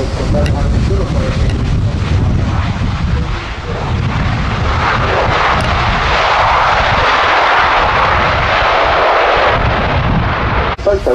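A military jet touches down at the Royal International Air Tattoo air show, a loud, continuous engine roar with rumbling and wind buffeting that fills the whole stretch, close and powerful.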